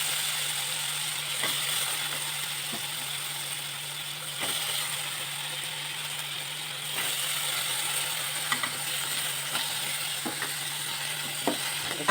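Washed vegetables go into a pan of frying tomato for a vegetable kurma, giving a steady soft sizzle with occasional sharp clicks and scrapes of stirring, close by and without talk.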